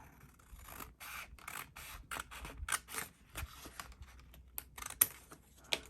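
Scissors snip around a planner sticker in a run of short, crisp cuts and paper rustles, closely recorded and fairly quiet, with brief pauses between strokes.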